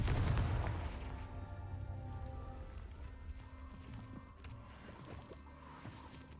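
Confringo blasting spell explosions from the Hogwarts Legacy video game: a loud burst up front followed by rumbling, crackling debris and a decaying boom, with game ambience continuing underneath.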